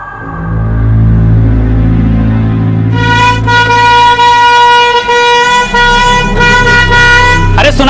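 A vehicle's engine rumbles loudly, then a horn blares in a long, sustained blast lasting several seconds, close by.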